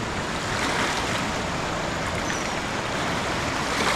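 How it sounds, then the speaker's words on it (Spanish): The Cauca river in Colombia rushes past in a steady, loud wash of flowing water, a dense continuous roar with a hint of wind and no voices. "Este es el río Cauca de Colombia"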